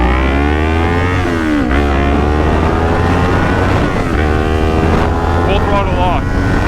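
A motorcycle ridden by a new rider is throttled up, its engine note rising and falling in loud, close harmonic sweeps with a brief dip and surge, mixed with wind rush.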